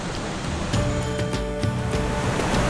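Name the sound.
Parvati river flowing beside the road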